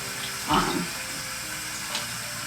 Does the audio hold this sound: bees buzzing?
no